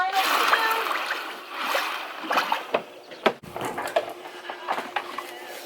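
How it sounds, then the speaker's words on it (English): A scalded chicken carcass is lowered into an ice bath during home meat-chicken processing, making repeated close sloshing splashes and knocks in the water while people talk nearby. "give it a nice little ice bath. It's going in"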